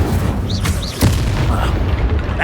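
Incendio fire spell blasts in the Hogwarts Legacy video game, booming bursts amid busy combat noise, with a loud whooshing blast near the middle and game effects swirling around it.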